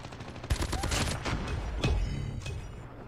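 Peacekeeper MK2 gunfire in Call of Duty Mobile, rapid automatic bursts with sharp impacts near the start and middle, loud and close, with no talk over it.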